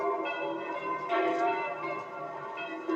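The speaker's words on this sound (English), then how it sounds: "gotta get out of the way of the sound waves of those bells" Bells ring in overlapping, sustained metallic tones, a rich chiming cluster that swells and fades at moderate volume with no speech.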